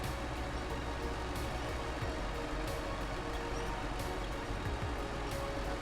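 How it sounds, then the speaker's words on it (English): A truck drives in the video game SnowRunner in the Yukon, a steady droning engine rumble with periodic faint clicks, continuous and even throughout with no talk. "I'm going to drive the truck on this side"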